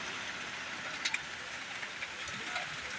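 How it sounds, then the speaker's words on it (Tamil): Steady rain falls in Coimbatore as a constant hiss, with a few louder drops or drips standing out now and then. "நல்லா மழை பெய்யுதா?"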